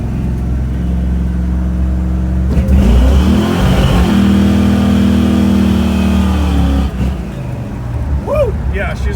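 Chevy 350 small-block V8 with a four-barrel carburetor and MSD ignition revs hard under way, a loud, sustained roar that climbs and holds, with a voice briefly cheering near the end.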